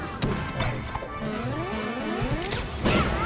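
Ice Climbers' down smash striking Falco in a Super Smash Bros. tournament match: sharp crashing hits at the start and end over bright game sound effects and rising tones, fairly loud and busy.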